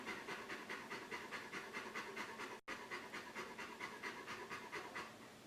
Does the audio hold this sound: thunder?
no